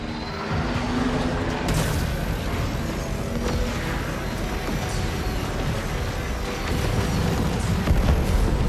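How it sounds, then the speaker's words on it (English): A torpedo launched and exploding in Warframe's Railjack space combat, heard as a dense, loud, continuous roar of blasts and booming detonations filling the whole stretch, with no clear gaps. "Target locked. Fire torpedo."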